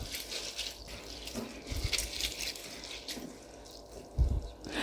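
Dried red chillies and coriander seeds are swished and stirred by hand in a bowl of water, with soft splashing, trickling and sloshing that rises and falls, quietly and close by, without speech.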